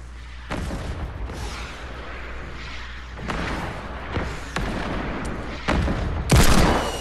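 Enemy gunfire from a hillside in a shooter video game: repeated loud shots and booming bursts break out at uneven intervals over a steady background rumble, and the last burst is the heaviest.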